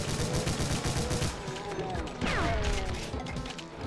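Gunfire in the shooter game Final Doom: a dense, continuous barrage of rapid blasts with crashing impacts throughout, loud and busy with descending tones in the middle, while a voice talks over the action.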